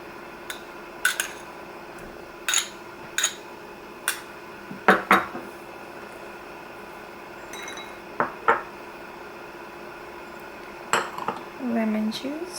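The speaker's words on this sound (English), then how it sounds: "So we are going to mix everything together in this bowl." A utensil clinks and taps against a bowl in scattered strikes while lemon juice, salt and oregano are mixed for finger sandwiches, with soft kitchen clatter in between and a voice heard briefly near the end.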